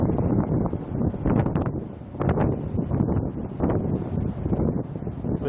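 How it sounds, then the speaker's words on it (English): Strong wind gusting outdoors during a severe spring weather outbreak with tornadoes and high wind, a loud continuous roar buffeting the microphone in surging waves. "So really windy out here."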